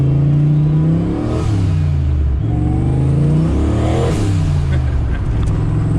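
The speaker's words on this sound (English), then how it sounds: "Let me show you what this car sounds like." A 1986 Mustang GT with its exhaust open revs hard and close up, the engine climbing and dropping twice in loud, rumbling sweeps over a steady idle.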